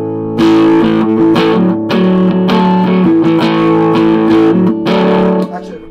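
A 1984 Hondo Formula 1 electric guitar played loud through a boost effect with a driven tone, sustained chords and notes ringing continuously with no talking.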